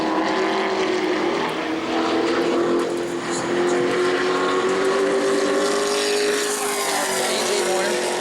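A Sportsman division race car circles the track during qualifying at New Smyrna, its engine a loud, sustained drone whose pitch holds steady and then climbs gently as it passes.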